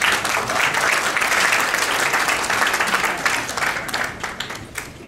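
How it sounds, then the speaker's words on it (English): Warm applause from a luncheon audience, steady dense clapping filling the room for the whole stretch and thinning slightly toward the end. "please welcome with a warm round of applause"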